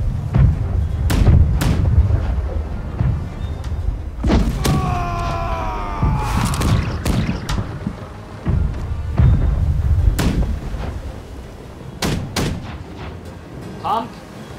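Ship cannons fire in a Blackwake naval battle: a series of loud, heavy booms at irregular intervals, some close and some farther off, with voices talking between the shots.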